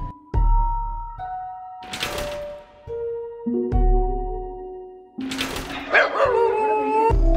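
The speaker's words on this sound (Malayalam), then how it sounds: "റൂഫിന്റെ മേളിൽ ഇതൊരു പട്ടി കുരക്കുന്നുണ്ട്" A dog on a rooftop lets out several loud, sharp barks in two bursts separated by pauses, close and clear, with thuds and a few whimpering, howl-like tones between them.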